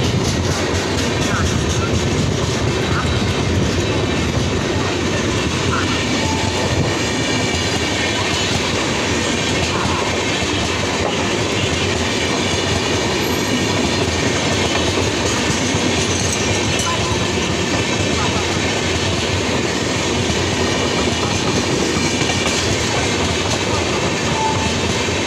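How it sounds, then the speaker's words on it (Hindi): The Nagarcoil Mumbai Express rolling through Hadapsar station slowly without stopping, a loud, steady rumble of railcars with continuous clickety-clack wheels and occasional squeals close by throughout. "Nagarcoil Mumbai Express."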